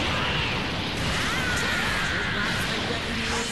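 An explosion attack lands in the fighting game Dragon Ball FighterZ, giving a dense, sustained crash and rumble with sweeping whooshes through it, loud and continuous for several seconds.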